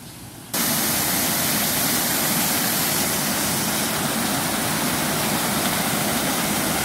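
A river waterfall roars in a steady, loud broadband rush that cuts in abruptly after a quieter moment and continues unbroken, close and dominating with no voices.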